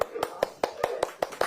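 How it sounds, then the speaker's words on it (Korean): Hands clap sharply in a steady, quick rhythm, about eight claps at an even pace, close and fairly quiet, with a faint voice-like tone between them. "네, 이렇게 박수."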